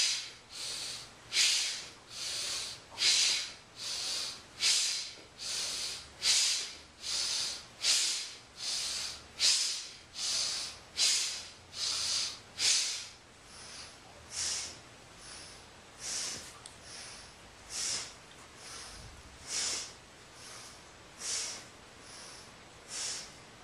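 Rhythmic breathing during yoga leg lifts, with forceful airy inhales and exhales repeating at a steady pace of about one cycle per second, close and clear with nothing else heard.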